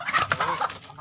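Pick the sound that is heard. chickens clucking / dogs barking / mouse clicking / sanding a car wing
chickens clucking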